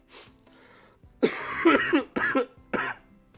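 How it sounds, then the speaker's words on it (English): Several harsh coughs burst out close by, one after another in quick succession, following a quieter stretch of muffled noise. "And more coughing."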